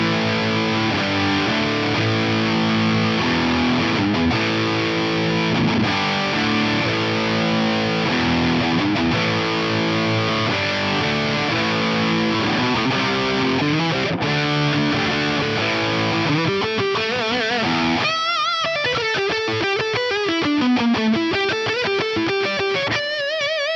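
Electric guitar played through a Darkglass Anagram set to its Rocker 83 distortion mode, stacking distortion into distortion, rings out loud and thick in continuous sustained chords, then shifts to bending lead notes near the end.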